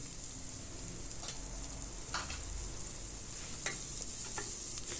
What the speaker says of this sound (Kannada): ನೋಡಿದ್ರಲ್ಲ, ಈಗ ಇವೆಲ್ಲನೂ ಬಾಡಿಸ್ಕೊತಾ ಇದ್ದೀನಿ.